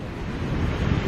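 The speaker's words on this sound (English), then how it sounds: "it's just really windy" Strong coastal wind on the shore of Curacao buffets the microphone with a steady, loud low roar, with a faint wash of surf beneath it and no voices.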